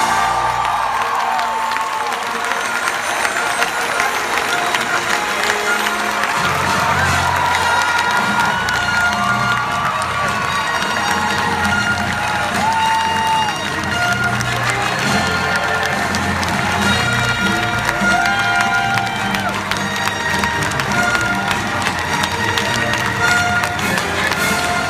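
A large audience cheers, whoops and applauds for George Lucas at the D23 Expo in 2015, a dense continuous roar of the crowd sustained throughout with no talk.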